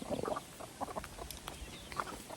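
Rhode Island chickens, a lone hen among them, cluck in short scattered bursts on a backyard farm, faint and close-ish against a quiet outdoor background.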